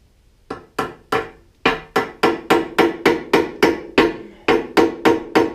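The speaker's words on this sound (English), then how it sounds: "I'm going to go get a hammer and pound in these dowel pin bolts" A hammer pounds dowel pin bolts into a two-cylinder tractor, about fifteen loud, close, ringing metallic blows, starting slowly and then falling into a quick, steady rhythm with brief pauses.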